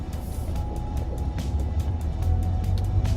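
A Kia Sonet with a one-litre three-cylinder turbo petrol engine, put in drive, pulls away with a steady low engine rumble that builds slightly, heard from inside the cabin.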